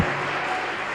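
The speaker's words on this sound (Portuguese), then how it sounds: "Quem crê, dá um glória a Deus, um forte aplauso a ti, Jesus." A church congregation applauds, a dense steady wash of clapping that fills the whole short moment at fairly loud level with no voices standing out.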